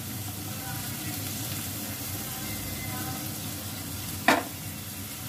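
Cabbage and bell pepper frying in a pan, a steady broad sizzle that runs throughout at moderate loudness, with one sharp clink of a utensil near the end.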